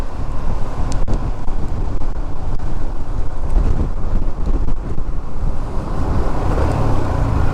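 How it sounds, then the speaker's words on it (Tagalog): Strong wind roars and buffets the microphone continuously in Ilocos Sur, Philippines, a dense rushing noise with no voices. "Napakalakas ng hangin talaga."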